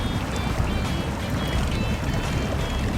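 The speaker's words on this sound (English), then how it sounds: "So as we come out of this steep section of water, the front seems to be pulling the back through pretty well." A truck ploughs through deep water in the SnowRunner video game, a steady rushing, churning wash of splashing water that stays close and even for a few seconds, with no voices.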